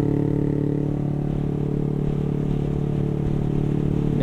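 Motorcycle fitted with a loud racing exhaust idling and revving close by, a steady throbbing low-pitched engine note that holds through the whole stretch without talk.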